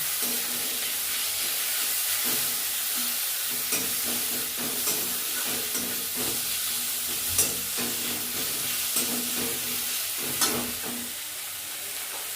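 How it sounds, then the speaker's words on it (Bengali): Onions fry with ginger paste and grated garlic in a pan for a paneer biryani, giving a loud, continuous close sizzle and hiss broken by repeated stirring scrapes, with no talking. "পেঁয়াজটা ভাজা হয়ে গেছে। এতে 4 চামচের 1 চামচ আদা বাটা আর রসুন ছোটো করা"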